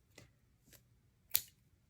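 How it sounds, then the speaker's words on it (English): Fabric-craft scissors snip a ribbon in half with three faint, quiet clicks spaced across a couple of seconds. The last cut is the sharpest, and the room is otherwise hushed. "I'll just take my scissors and cut that ribbon right in half"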